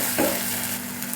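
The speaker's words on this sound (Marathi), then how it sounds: "मसाला चांगला फ्राय झाला आपला." Masala sizzling in a pan while it is stirred for a Shimla mirchi (capsicum) bhaji, a short steady fry with one brief scrape of the spoon.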